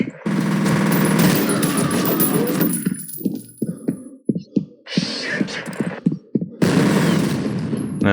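Gunfire in the shooter game F.E.A.R. Extraction Point: a long sustained burst of rapid automatic fire, then a run of separate sharp shots with short gaps, then another continuous burst.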